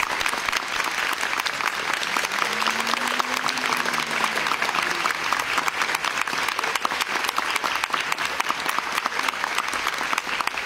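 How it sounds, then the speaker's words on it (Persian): Steady, dense applause from a group of people, continuous and fairly loud throughout, with a faint tonal sound briefly rising beneath it. "باشه میپذیریم تشویقشون"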